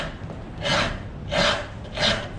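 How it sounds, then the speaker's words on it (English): A rasp files down an old sledgehammer's wooden handle in three slow, rhythmic strokes, each a rough scraping swell followed by a pause, close and moderately loud. "So I'll use this rasp"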